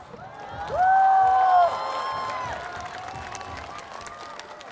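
Spectators at the FISE Shanghai 2024 UCI BMX Freestyle Park World Cup women's final cheer and shout. A loud burst of cheering trails off into sustained crowd noise.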